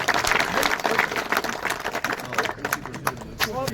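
An audience applauds at a Sindhi literary program in Ladakh, a brief burst of dense clapping with some voices mixed in.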